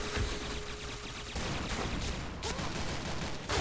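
Rapid SMG gunfire bursts from the video game Piercing Blow, loud and continuous with dense overlapping shots across the whole stretch, a short pause near the middle.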